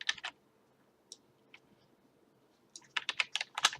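Bursts of quick keystrokes on a computer keyboard as Java code is typed, a short cluster at the start, a few scattered clicks, then a denser run of typing at the end, close and clear.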